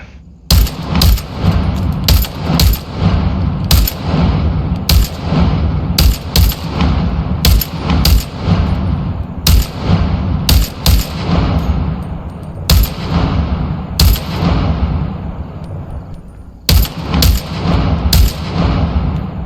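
Gun firing on automatic in the video game Into the Radius 2, loud rapid bursts of shots repeating with brief pauses between them, close and dominant.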